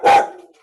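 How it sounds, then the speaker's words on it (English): A single loud dog bark close by, cutting sharply into a panel discussion and trailing off within a fraction of a second. "I'm sorry because I have to stop this dog."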